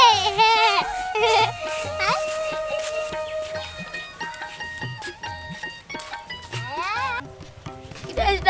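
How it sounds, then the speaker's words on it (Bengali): Repeated goat bleats, several wavering cries close by, mixed with hoof clatter and background voices talking. "আমার বাবা আমার জন্য ছাগল কিনে দিছে"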